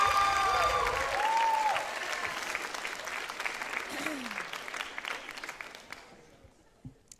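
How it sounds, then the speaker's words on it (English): Audience applause at a school event honoring the 2026 Winter Court, steady clapping that fades gradually over several seconds, with a voice speaking briefly over it at the start. "Let's have a round of applause for our 2026 Winter Court."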